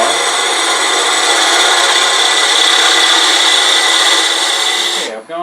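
A walnut box spinning on a wood lathe while a tool cuts it, producing a steady, loud, even scraping whir that drops away abruptly near the end.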